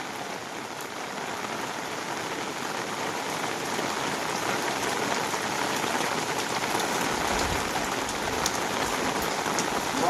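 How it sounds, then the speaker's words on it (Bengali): Heavy monsoon rain pours steadily in rural Sundarban, near a pond, a dense, close and unbroken roar of drops hitting the ground and foliage that holds loud for the whole stretch with no voices. "বৃষ্টি কিন্তু খুব জোরে হচ্ছে"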